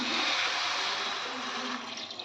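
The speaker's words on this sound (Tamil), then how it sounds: "சூப்புக்கு தேவையான தண்ணி ஊற்றிக்கலாம்" Water being poured into a pan for spinach soup, a steady, close, continuous rushing pour that holds for about two seconds and tapers slightly at the end, with no talking.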